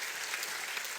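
A brief burst of steady audience clapping for a volunteer coming down to the front, dense and even with no voices.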